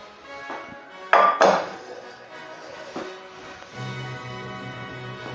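A century-old metal pot used for baking bread is handled with sharp clanks and ringing metallic knocks, a couple of loud close hits followed by softer scrapes and a lingering resonant hum.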